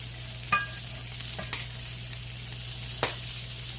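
Cabbage fries in a pan with a steady bright sizzle throughout, broken by a few sharp clicks and scrapes of stirring.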